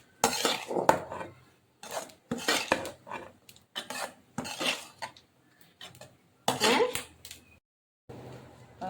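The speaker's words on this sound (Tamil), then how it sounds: "இதில் வந்து ரைஸ் போட்டு நம்ம கிண்ட வேண்டியதான்." Rice being stirred into an egg mixture in a metal pan for Tamil egg rice, a series of scraping, clinking spoon strokes in short bursts separated by pauses, close up, with a voice talking between strokes.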